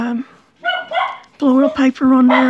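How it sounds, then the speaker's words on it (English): A dog barks several times in short bursts, loud and close, while a person talks over it. "Sorry about the dog barking."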